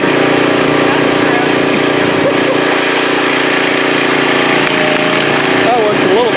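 A wood splitter's motor runs steadily and loud, a constant droning hum with a faint whine rising near the end.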